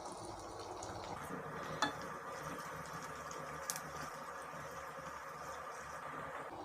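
Onions, curry leaves and green chillies frying in oil for rava upma, a steady soft sizzle with occasional stirring clinks from a pan, close and moderately quiet throughout.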